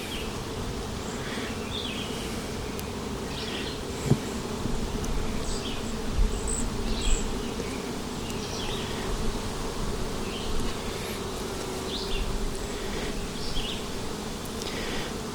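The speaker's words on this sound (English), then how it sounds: "This might make some angry bees" A swarm of honey bees hums and buzzes continuously up close around an open hive as frames are handled, individual bees droning past amid a few light knocks and clicks.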